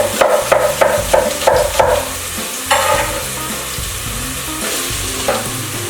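Chopped onion, leeks and mushrooms frying in a pan for an Indian curry, stirred with quick scraping strokes at first, then left to a steady sizzle with a few more stirs, close and fairly loud, with no talking.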